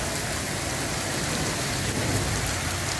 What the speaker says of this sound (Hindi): ज़बरदस्त तेज़ बारिश